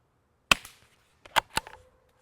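Suppressed .22 rimfire gunshots fired through a Rugged Suppressors Obsidian 9 modular 9mm silencer: one sharp, dampened crack, then two more close together about a second later, with brief decaying echoes and no talking.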